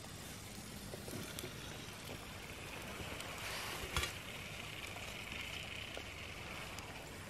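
Steady sizzling and crackling of a 12-ounce piece of meat frying in a pan at a woodland camp, fairly quiet and continuous, with an occasional louder pop.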